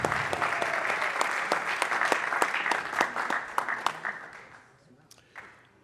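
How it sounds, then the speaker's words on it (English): An awards-night audience claps for a football player, a dense burst of applause that swells loudly, then thins into scattered claps and fades out near the end. "Give him a big round of applause."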